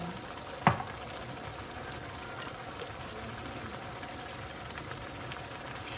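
Food with added red pepper flakes and black pepper simmers in a pan, a soft steady bubbling hiss running throughout with one brief clack near the start.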